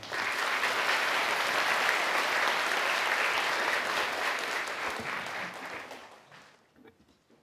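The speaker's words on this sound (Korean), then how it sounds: "큰 박수로 환영해 주시기 바랍니다" Enthusiastic applause from a large audience welcomes the National Assembly Speaker at a children's national assembly event, swelling steadily for about five seconds and then tapering off into scattered claps and near silence.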